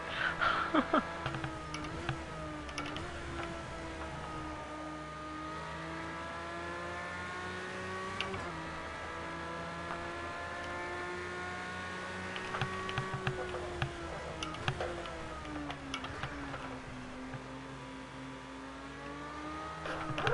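Race car engine in the racing game Project Cars holds a steady high rev, pitch shifting through gear changes with brief dips and climbs, loud and continuous for the whole stretch.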